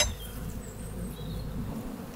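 Honey bees hum in an open hive during a spring inspection of a weak colony, a faint, steady buzz with a few individual bees droning past nearby.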